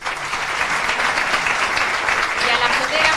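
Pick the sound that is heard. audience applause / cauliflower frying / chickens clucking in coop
audience applause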